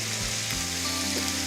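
Food frying and sizzling in a Delimano ceramic pan, browning to a golden crust: a steady, close, dense hiss with faint crackles running throughout, no voices.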